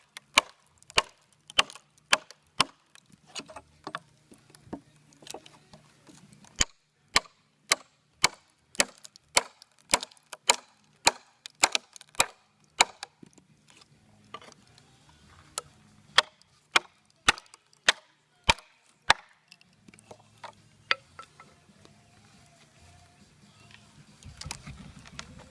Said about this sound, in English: just splitting the wood, everything, the sound that it makes.